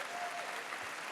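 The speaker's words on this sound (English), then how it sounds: "A big round of applause for Ibtihaj." Crowd applause at the close of a panel with Olympian Ibtihaj Muhammad, a dense, even wash of clapping filling the whole short moment at moderate level.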